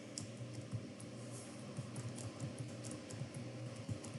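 Faint, steady tapping on a computer keyboard while someone sets up SPSS, with soft, irregular keystrokes running continuously and quietly in the background.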